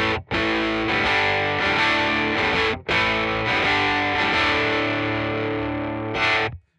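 Electric guitar driven through a Special Cranker overdrive pedal, played as a few loud, crunchy distorted chords that ring out and are cut short, close and without talk.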